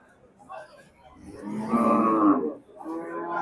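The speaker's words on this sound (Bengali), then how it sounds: "সুঠাম দেহের বেশ কিছু গরু দেখতে পাচ্ছি আমরা" Cattle at Hazratpur cattle market in Keraniganj, Dhaka, where bulls are sold, give one loud, close, drawn-out moo, with a fainter lowing call from the herd after it over market background noise.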